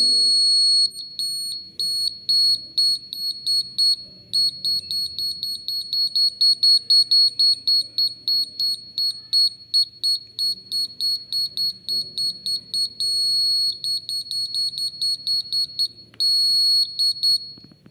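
A gas leakage detector project's sensor buzzer sounds a rapid, repeating high-pitched electronic beeping alarm, steady and fairly close for the whole stretch with only short breaks.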